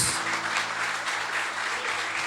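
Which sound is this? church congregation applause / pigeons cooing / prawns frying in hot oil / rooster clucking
church congregation applause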